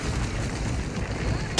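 Dense, loud gunfire and explosive booms from the video game Apex Legends, a continuous rumbling barrage up close, with a sharp burst at the end.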